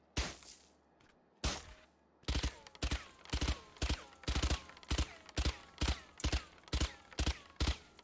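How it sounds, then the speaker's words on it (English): A silenced Spectre SMG fires in Valorant: about a dozen short, evenly spaced bursts of suppressed shots, close and crisp, with brief quiet gaps between them and no voices. "Now we have a Spectre, which is a silenced SMG with a decent spread"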